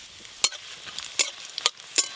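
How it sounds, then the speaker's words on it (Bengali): Whole cumin and dried red chillies fry in mustard oil, a low steady sizzle broken by four sharp crackling pops, close and fairly quiet, with no voices. "সর্ষের তেল, এখানে গোটা জিরে আর শুকনো লঙ্কা নিয়েছি, ভালো করে ভেজে নেব।"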